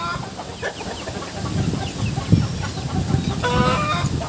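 Several chickens cluck and murmur close by in a continuous chatter after Typhoon Kristine, with one higher call standing out near the end.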